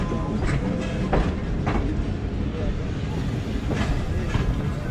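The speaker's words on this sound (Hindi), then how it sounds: "अल्लामा इकबाल एक्सप्रेस ने बहुत ही स्लो स्टार्ट लिया है नारोवाल से" The Allama Iqbal Express pulls slowly out of Narowal from the loop line toward the main line, with a steady rumble and spaced wheel clicks over the rails, and someone talking over it.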